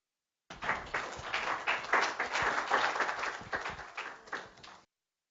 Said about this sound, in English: If I were you, I'd save the applause for the end.